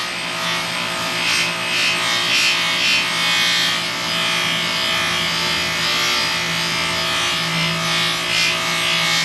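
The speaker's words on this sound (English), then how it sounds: "They recommend when you change colors, you change the reels, or the buffing wheels." A buffing wheel polishes a piece, producing a loud, continuous abrasive whirring and rubbing that pulses slightly as the piece is worked against the wheel. No one talks over it.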